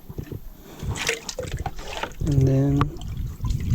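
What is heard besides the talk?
water in a sink while hand-washing merino wool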